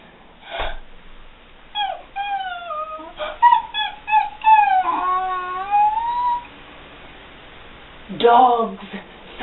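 Emaciated dogs whimper and howl in rising, wavering cries, several drawn-out calls following one another at close range, with a sharp outburst near the end.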